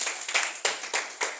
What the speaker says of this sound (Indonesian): Oke, tepuk tangan untuk Kak Cynthia.